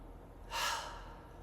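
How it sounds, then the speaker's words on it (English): A single deep breath drawn in through the nose during a guided meditation, a soft airy rush lasting about half a second in an otherwise quiet room. "take a deep breath in"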